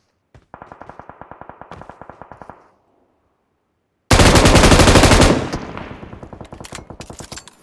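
Rapid automatic gunfire in PUBG rattles off in a quick burst, then stops for a short silence. A louder, denser burst of shots follows and trails into scattered further rounds.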